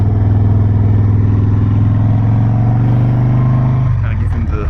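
A Harley-Davidson Softail Fat Boy's engine rumbles loud and steady while riding, a low throbbing drone that holds, then shifts and eases near the end, with wind noise throughout.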